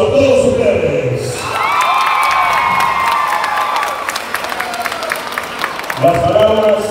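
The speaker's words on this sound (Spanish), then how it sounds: "un fuerte aplauso a todos ustedes" A crowd at a ceremony in Chinandega, Nicaragua, breaks into loud applause with cheers, whistles and whoops. The sound is close and sustained, briefly covering a voice over a loudspeaker, then fades as talking returns near the end.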